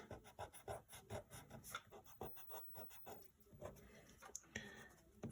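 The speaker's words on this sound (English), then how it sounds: "Now what we need to do is get our eraser and remove our guidelines that we put." A pencil eraser rubs quickly back and forth over paper to remove drawing guidelines, a close, quiet rhythmic scratching in short rapid strokes with no voices.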